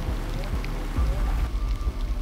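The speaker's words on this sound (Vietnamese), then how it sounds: "Mưa rồi, trời ơi." Rain falls steadily in an outdoor setting, a soft continuous patter with low rumbling underneath and a few heavier thuds, heard at moderate loudness without clear talk.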